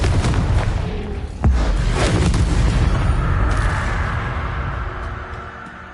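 A Confringo blasting spell explodes in Hogwarts Legacy, a loud deep boom with a sharp impact and a long rumbling decay that fades away over several seconds.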